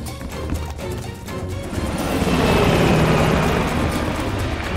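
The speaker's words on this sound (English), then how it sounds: "The chopper got away!" A helicopter in Call of Duty: Black Ops Cold War flies away, a loud churning rotor and engine roar building to a broad steady wash.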